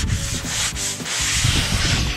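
Sandpaper rubs back and forth along the grain of wood by hand in quick, rhythmic scratchy strokes, close and fairly loud.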